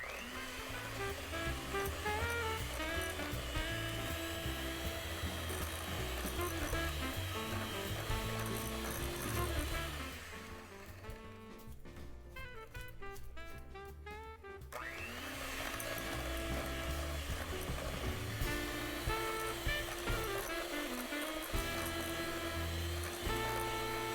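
An electric mixer beats brown sugar and butter into cookie batter, whirring loudly and steadily, with a softer, lighter stretch in the middle before the full motor drone returns.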